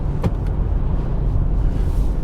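A 2020 Kia Sportage GT Line automatic diesel rolls over uneven bitumen, heard as a steady low rumble of road and engine noise with a couple of brief bumps early on.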